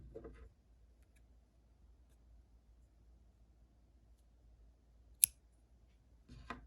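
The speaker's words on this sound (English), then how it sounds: "And now you can cut the tail so that it's about 6 inches long." Scissors snip a knitted yarn tail once after binding off. The single crisp cut is close and stands alone in near silence, with faint rustling before and after.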